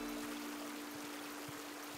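Water trickling steadily through a bamboo water feature in the Animal Crossing: New Horizons video game, a soft continuous splashing stream with a faint steady tone underneath, quiet and unbroken.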